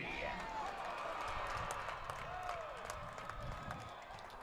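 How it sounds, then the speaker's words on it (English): A crowd at a high school football game at Fells Field cheers in a broad, distant wash of noise, with an announcer talking over it. "Lots of cheering here at Fells Field"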